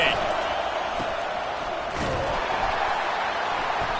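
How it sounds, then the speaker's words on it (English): Football stadium crowd roaring at full volume after a quarterback hit, a dense continuous wall of cheering and noise with no break throughout. "This crowd, full throat, splitting the eardrums"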